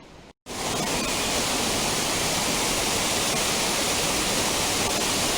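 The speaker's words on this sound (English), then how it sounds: "so I have arrived at Neer Jharan waterfall" Neer Jharan waterfall near Rishikesh roars with a dense, steady rush of falling water. The sound is loud and close, starts after a brief gap and continues unbroken with no voices.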